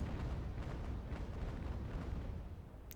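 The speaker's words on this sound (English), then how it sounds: "Just showering the position with artillery shell." Ship cannon fire in the Age of Sail naval game Ultimate Admiral, a sustained low rumbling barrage of artillery shelling a position, dense and continuous with no single clear shot standing out.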